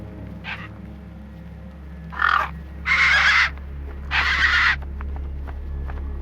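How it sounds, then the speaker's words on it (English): Gang birds, crows in the video game Beyond a Steel Sky, give several loud, rasping caws in separate bursts over a steady low background hum, with no talking. "Gang birds were eyeing up the corpse hungrily."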